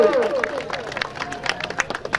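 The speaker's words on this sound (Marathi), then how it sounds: "जरा टाळ्या वाजवा घेऊ।" A village audience at an Ahilya Jayanti competition prize-giving breaks into scattered clapping, which swells into light applause amid crowd murmur and an announcer's voice.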